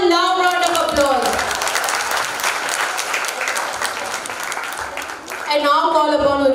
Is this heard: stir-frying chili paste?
no